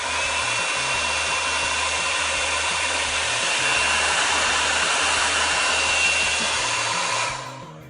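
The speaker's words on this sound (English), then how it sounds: "My hair dryer only has hot, so I go as long as I can." Hair dryer blowing on its hot setting, a loud, steady close-up whoosh and whine that runs unbroken for about seven seconds before cutting off.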